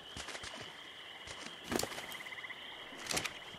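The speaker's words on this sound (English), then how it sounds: "You got frogs on you too." Frogs croak in a swamp in the modded survival game ARK: Survival Evolved, with steady chirping croaks, rhythmic tapping and a couple of louder bursts, and no voices.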